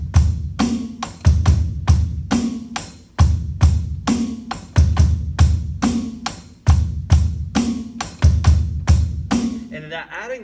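A drum kit plays a steady rock groove with the 4-and anticipatory kick, alternating with a stomp-style beat: punchy kick and snare hits with cymbal wash in a regular repeating rhythm, loud and close with no voices.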